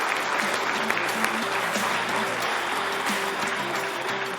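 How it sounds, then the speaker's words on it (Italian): Studio audience on a sports television program claps steadily and loudly throughout, a continuous wash of applause with a faint voice or tonal hum beneath. "allora un applauso all'idea anche"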